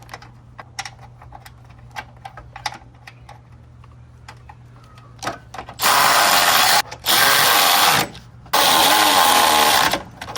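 Three 10mm bolts on a Honda CR-V hood latch are driven in with a power tool, several loud buzzing bursts after a stretch of scattered clicks and handling of parts.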